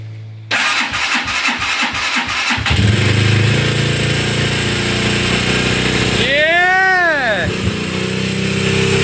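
A sport motorcycle engine cranks with rhythmic starter chugs, catches and bursts into a loud, steady idle, then revs up and down in rising and falling sweeps, close by, with people talking over it.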